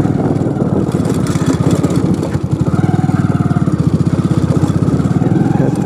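A motorcycle engine pulls hard in second gear while riding off road by a riverside, a loud, rapid, steady pulsing drone close by that rises in intensity partway through.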